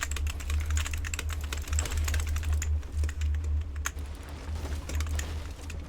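Rapid typing on a cheap computer keyboard, close and fairly quiet, with dense, irregular clicks over a low steady hum.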